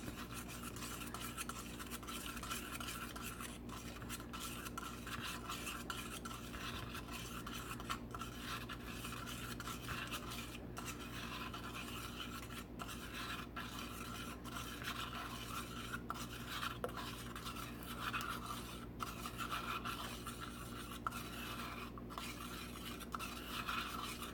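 A spoon stirs homemade chalk paint made with baking soda in a container, a soft continuous scraping and swirling with faint clinks, close and quiet against a low steady hum.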